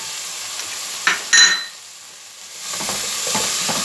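Seafood rice with peppers, yellow ají and tomato sizzles steadily in a pan while a spoon stirs it, with a couple of sharp scrapes near the start before the frying hiss settles into a constant close sizzle.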